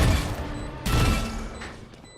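Two sharp pistol shots from the video game Valorant, each a loud crack with a short decaying tail, spaced under a second apart, with faint tournament commentary underneath.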